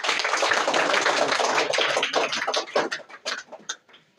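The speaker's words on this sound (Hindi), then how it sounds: "तालियां हो जाए" Schoolchildren in a classroom in Ghanashyampur, Azamgarh, break into dense, loud applause that holds steady before thinning out into scattered, fading claps near the end.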